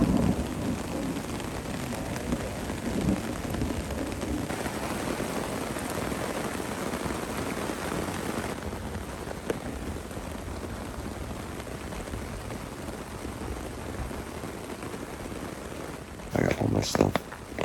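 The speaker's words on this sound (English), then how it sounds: "Pretty fucking soaking wet right now, and it's pouring rain" Heavy rain pours steadily and loudly for the whole stretch, a dense hiss with a brief louder burst near the end.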